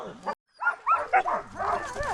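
A dog barks and yips outdoors with a few short, close, loud barks after a brief silence, overlapping with voices nearby.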